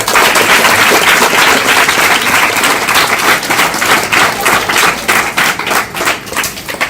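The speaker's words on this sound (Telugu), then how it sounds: "అందరికీ ఒకసారి గట్టిగా చప్పట్లు కొట్టండి" Students and staff at a school event in Bapatla give loud, sustained applause, a dense crowd of hands clapping steadily, then thinning into more separate, rhythmic claps toward the end.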